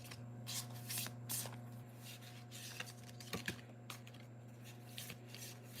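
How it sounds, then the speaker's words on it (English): Cards being shuffled in repeated quick riffling bursts, close by, with steady background hum and no talking. "I'm just going ahead and kind of shuffling the cards."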